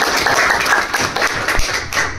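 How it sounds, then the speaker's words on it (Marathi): Applause from an audience at a training session in a hotel hall in Nashik: dense, loud, steady clapping from many hands that continues for a couple of seconds. "एकदा जोरदार टाळ्या आपल्यासाठी"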